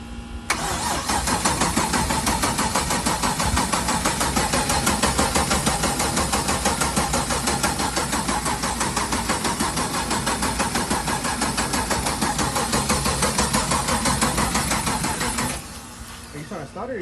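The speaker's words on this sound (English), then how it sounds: "Are you trying to start it or you're just cranking it?" A built 416 cubic-inch stroker LS3 V8 cranks over steadily for about fifteen seconds, a loud, continuous rhythmic churning that stops near the end, with people talking over it.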